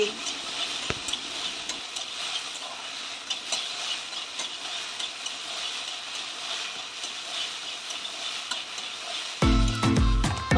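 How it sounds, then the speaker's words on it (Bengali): Potatoes and okra stirred in a frying pan give a steady, close sizzle with scraping spoon strokes throughout, ending with a louder burst of clatter. "এখন আলুগুলো দিয়ে দিচ্ছি আবার কিছুক্ষণ নাড়াচাড়া করে নিচ্ছি"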